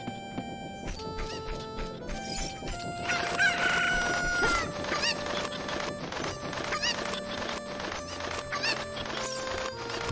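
Cuccos in The Legend of Zelda: Ocarina of Time cluck repeatedly in quick bursts, with a rooster crow in the middle, over game background music.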